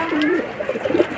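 A pigeon coos softly in a low, rolling, warbling call, close by, with faint background noise.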